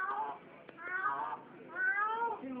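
A cat meows three times in drawn-out, wavering cries with a pause between each, fairly faint and close, with a sharp click between the first two calls.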